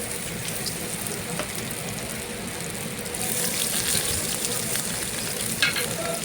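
Mera pitha cakes fry in a pan with a steady, close sizzle and crackle, the frying growing a little louder partway through, with no talk over it.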